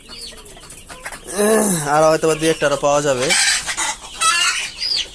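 A desi hen clucks loudly and repeatedly, close by, with someone speaking before and after the calls.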